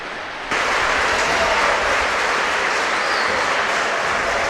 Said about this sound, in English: Very polite applause there from the president.